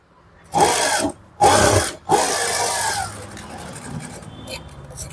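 A sewing machine runs in three short bursts, double-stitching a blouse shoulder. The last burst is longest and fades to quiet room noise, with faint light tapping after.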